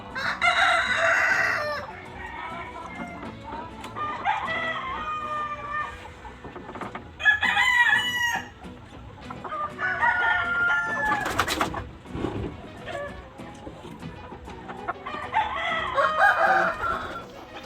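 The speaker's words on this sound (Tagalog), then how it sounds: "Ito yung mga manok natin." Several chickens cluck and squawk nearby while a rooster crows repeatedly, loud and close, with scattered calls overlapping throughout.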